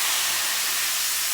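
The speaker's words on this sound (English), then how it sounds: "We're going to add our Madeira wine in here." Madeira wine hitting a hot skillet gives a loud, steady hiss of sizzling steam that carries through the whole moment without a break and with no one talking.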